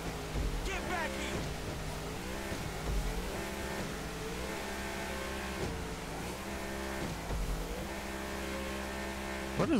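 A randomized car engine in GTA 5 drones steadily throughout with shifting revving pitch, loud and continuous, with music or game sounds layered over it.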